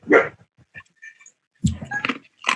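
A dog gives a few short, close barks with gaps of near silence between them, heard during a podcast recording.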